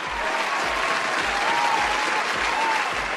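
Studio audience at a Nowruz family game show breaking into steady, dense applause with a faint crowd murmur, sustained throughout at even loudness.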